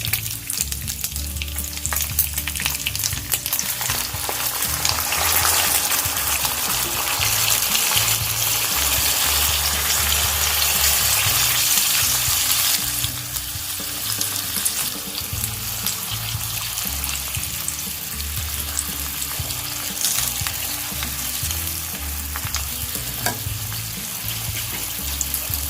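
Pork belly sears in a hot pan for Japanese braised chashu with a loud, continuous sizzle and crackle that surges when the meat is moved, alongside occasional stirring scrapes and no talking.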